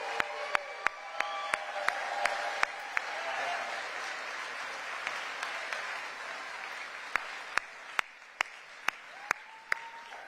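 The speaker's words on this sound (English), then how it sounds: "Let's give them a round of applause for everything they do and all of those who help us." A rally crowd applauds steadily at a JD Vance event in Henderson, a dense wash of clapping with cheers and sharp bursts standing out, lasting the whole stretch and thinning slightly near the end.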